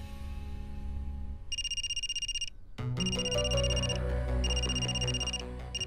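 A phone ringtone chimes in repeated bursts of bright electronic tones, starting alone and continuing over background music.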